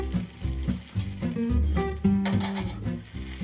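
Potatoes fry in a pan over medium-high heat, a soft steady sizzle with some stirring and clatter in the background, close and moderately quiet, with no talking.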